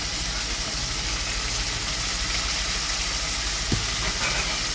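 Green beans hit hot oil with browned garlic in a pan, and a steady, even sizzle fills the clip from start to finish. A faint clink sounds near the end.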